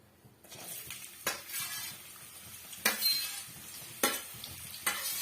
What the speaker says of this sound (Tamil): இந்த ஸ்டேஜ்ல நம்ம கட் பண்ணி வச்சிருக்க பிரண்டை பீஸுகளை இதோட சேர்த்துடலாம்